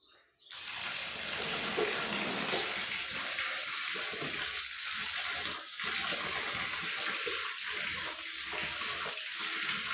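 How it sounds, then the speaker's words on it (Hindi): Wheat grain being washed with water in a tub, a steady loud gush of pouring water starting abruptly, with sloshing and occasional splashy dips throughout. "और अभी धोने में ही लग रही हूँ गेहूँ।"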